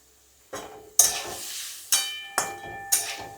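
Paneer frying in a pan with extra oil, with spatula scrapes and stirring: five sharp strokes in an uneven rhythm over a soft, steady sizzle, close and moderately loud, with no talk.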